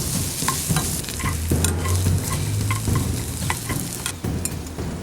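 Half an onion and jalapenos fry in a pan while being stirred, a constant close sizzle broken by repeated scraping strokes and light utensil taps against the pan.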